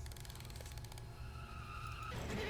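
A toy car drives through a level in the video game Poppy Playtime Chapter 3, with a steady engine-like drone and rolling rumble that swells into a louder, brighter whine near the end.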